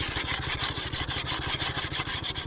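A blade is sharpened with steady, rapid back-and-forth rasping strokes against a whetstone while preparing rice seedlings, a continuous scraping rhythm heard close and alone.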